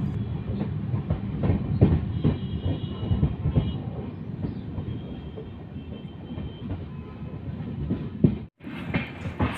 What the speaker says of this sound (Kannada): ಹುಬ್ಳಿ ರೈಲ್ವೆ ಸ್ಟೇಷನ್ ಒಳಗೆ ಹೋಗ್ತಿದ್ದೀವಿ.